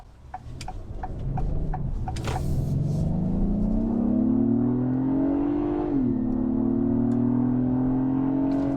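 A 2022 Acura MDX with a naturally aspirated 3.5-liter V6 accelerating on the road, its engine drone climbing steadily in pitch, briefly dropping at a shift, then pulling again, with soft ticking at the start.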